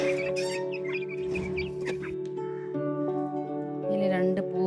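Chickens cluck on a family farm, with several short, close calls scattered over a steady low hum and no clear talk.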